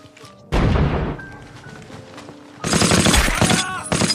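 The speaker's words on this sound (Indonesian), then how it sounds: "Joseph dan Patrick ditugaskan membuka tembakan peralihan" Loud bursts of gunfire in a film battle scene crack out in two intense volleys with a lull between, like a staged battle.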